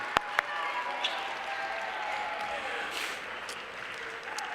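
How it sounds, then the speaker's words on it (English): Audience applause at a clean water celebration awards event, a soft continuous patter of clapping heard from a distance, with a couple of sharp nearby claps at the start. "Give them another round of applause."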